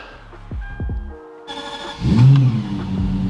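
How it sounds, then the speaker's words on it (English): Lexus LFA V10 supercar starting up: a quiet beep and chime, then the starter engages and the engine catches with a loud, rising rev before settling into a steady, close idle. "All right, let's start this car up."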